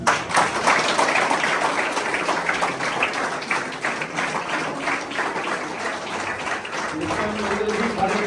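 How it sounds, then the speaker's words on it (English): An audience at a taekwondo referee seminar gives sustained applause, a continuous, fairly loud patter of many hands that carries on for the whole stretch. "Please applause everyone."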